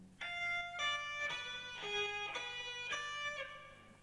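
A distorted electric guitar plays a neoclassical metal lick slowly, about seven evenly spaced picked notes stepping up and down the high string, each ringing bright and sustained before the next.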